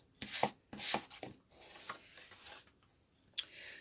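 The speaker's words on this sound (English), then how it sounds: "I'm going to flip this over and burnish it" Glued paper popcorn wrap is burnished by hand, giving a series of short, close rubbing and scraping strokes with brief quiet gaps between them.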